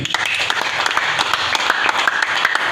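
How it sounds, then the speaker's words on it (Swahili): A church congregation claps together in dense, continuous applause, many hands close and loud with a steady crackling texture that never breaks, no voices standing out above it. "Tupige Yesu makofi"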